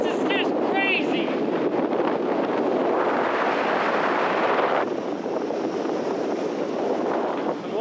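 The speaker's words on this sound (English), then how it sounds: "The winds are just nuts." Strong wind roars over a microphone on exposed mountain terrain, a loud, continuous buffeting rush that gusts and eases slightly, with a voice briefly audible early on.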